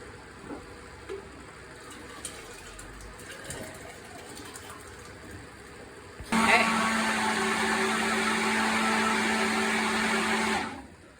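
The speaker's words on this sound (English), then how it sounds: "we're going to put it in batches into the blender." A blender pureeing carrot soup starts up abruptly and whirs loudly and steadily for several seconds, then cuts off; quieter kitchen clatter comes before it.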